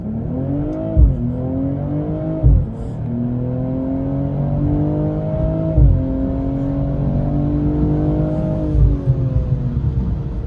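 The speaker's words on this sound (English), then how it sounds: "Here I'll do a quick 0 to 60 and I'll get on her a bit." A 2022 BMW M240i pulls hard from a standstill toward 60 mph, its engine climbing in repeated rising sweeps broken by quick gear changes, loud and close from inside the car with no talk.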